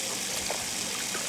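In The Sims, water streams steadily from a tap while a character washes their hands, a continuous soft trickle with no other sounds.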